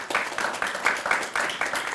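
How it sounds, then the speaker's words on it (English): A small audience at a school system news conference claps in a quiet, fairly rhythmic patter, with short evenly spaced bursts of hand claps over two seconds. "Give them a round of applause if you would."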